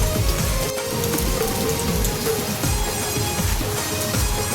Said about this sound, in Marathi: आता पाऊस एकदम पडतोय